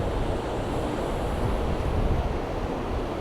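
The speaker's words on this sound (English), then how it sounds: "So this is Barafundle Beach" Surf washing continuously onto Barafundle Beach in South Wales in February, a steady broadband roar with wind buffeting the microphone throughout and no voices.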